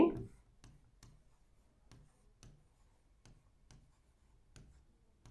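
Pen or pencil writing a Hindi sentence by hand on paper, giving soft scratchy strokes and taps in an irregular rhythm, close and quiet, with no talking.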